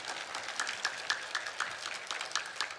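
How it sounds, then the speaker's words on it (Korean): Faint, distant clapping from a church congregation during a sermon, a soft spread of hands with slightly uneven pulses rising and falling over a few seconds, heard quietly against the room's background. "하나님께 감사의 박수 한번 쳐봐"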